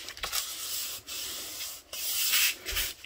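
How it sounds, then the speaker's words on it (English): Craft paper from a printable junk-journal kit is creased and folded by hand, giving close, dry rubbing and scraping swipes in a few separate strokes with short pauses between, no voices. "we can now go ahead and first train our paper to fold at the top and at the bottom, as well as on the sides"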